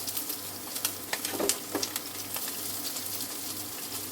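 Turbot skin fries in butter in a pan with a soft, steady sizzle and scattered crackling pops, faint and close, with no voices over it.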